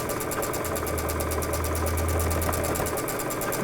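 A sewing machine runs steadily while stitching the seams of a quilt section, a continuous close mechanical whir with fast repeating needle rhythm and a low motor hum, heard alone without talk.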